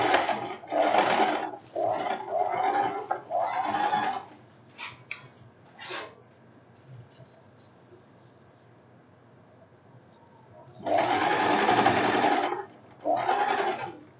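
A sewing machine runs in several bursts of fast stitching as it topstitches a silk blouse, with a long quiet pause in the middle before two more runs.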